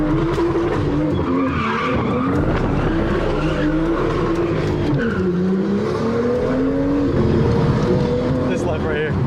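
Someone's car drifts through downtown streets, its engine roaring steadily with long, wavering tire squeals that rise and fall continuously, loud and close, with voices talking underneath.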